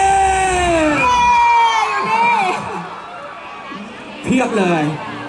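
A festival crowd at the opening ceremony of the [V] Music Festival in Siam cheers and shouts loudly, with high voices yelling over a dense roar that dips midway and surges again in a short burst near the end.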